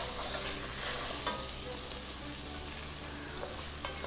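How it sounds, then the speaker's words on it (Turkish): Washed lentils roasting in a pan, a dense continuous sizzle and rustle with occasional stirring scrapes, steady and close, no speech. "Mercimekler sapsarı olana kadar kavrulsun"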